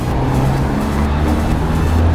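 Cars pass steadily along a busy, congested city street at rush hour, a continuous loud rumble of engines and tires with no breaks, heard from a bicycle moving through the traffic.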